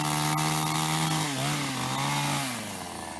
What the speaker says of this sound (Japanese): 今回はチェーンソーの手入れをかなり怠っていました。